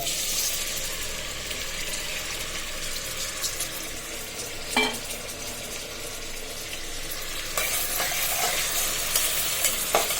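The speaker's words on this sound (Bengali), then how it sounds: "এগুলো ভালোভাবে তেলে ভাজা হয়ে যায়" Onion, garlic and shrimp crackle and sizzle steadily in hot oil, with occasional spatula scrapes and a louder burst of frying later on.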